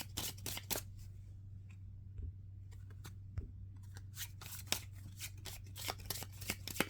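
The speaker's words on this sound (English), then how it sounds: "I'm going to shuffle these cards." Rapid, papery riffling and flicking of a deck of original 1937 Zener ESP cards, close and quiet, continuing over a steady low hum.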